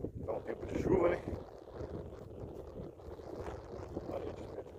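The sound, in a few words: wind blowing, wind noise on microphone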